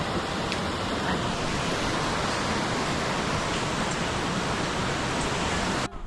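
Waterfall beside a trail near a glacier river, a steady broadband rush of falling water that holds loud and constant throughout, with no voices over it.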